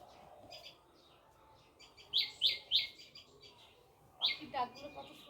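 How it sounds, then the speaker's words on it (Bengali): Birds chirping and calling outdoors, a few sharp bright chirps in two short bursts against a quiet background, with a person talking nearby. "পাখির ডাকগুলো কত সুন্দর লাগে না"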